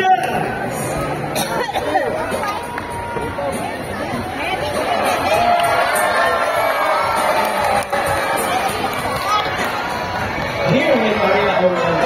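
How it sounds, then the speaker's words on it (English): An audience at a bird show at an oceanarium cheers, claps and shouts, with children's voices and chatter mixed into a loud, lively crowd noise that continues throughout. "A round of applause from raptors, our chickens, and our homemade pigeons."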